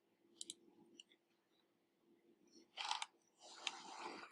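Computer mouse clicking during CNC toolpath setup software work, a few quick faint clicks early on, then louder clustered clicking bursts toward the end, with no talk.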